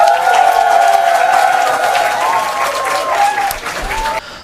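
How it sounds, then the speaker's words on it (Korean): Audience at a youth candidate audition in Seodaemun, Seoul claps warmly and steadily, a full burst of applause mixed with a few cheers that fades slightly near the end while a voice briefly carries over it. "박수 한번 부탁드립니다."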